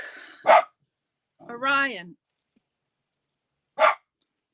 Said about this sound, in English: listen to the dog bark.